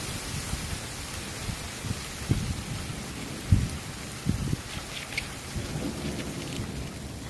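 A close thunderstorm brings steady heavy rain pattering on surfaces, broken by several low thunder rumbles and cracks, loud and continuous with no talk.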